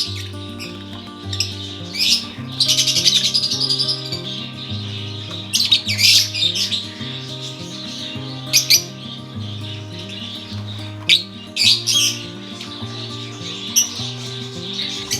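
African lovebirds and parakeets in an aviary squawk and chirp in repeated harsh bursts over a steady low droning tone, fairly close and loud, with no talking.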